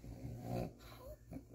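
A dog snorts and wheezes like a pig, low nasal grunts and rasping breaths at close range, fairly quiet and irregular across a brief stretch.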